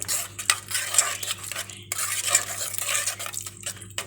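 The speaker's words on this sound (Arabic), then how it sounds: "نقلب بقى كله كده مع بعضه" Spiced tomato mixture with chili and salt being stirred in a pot, a steady scraping and clinking of a spoon against metal throughout, close and fairly loud with no talking.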